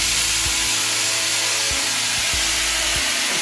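Mushrooms and garlic sizzling in a hot pan, a steady loud frying hiss with a few soft thumps as the pieces are stirred, no talking.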